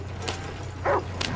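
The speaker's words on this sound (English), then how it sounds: "Yeah, dog." A dog in the video game Red Dead Redemption 2 gives one short, fairly close bark or yip over a steady low hum, the rest quiet.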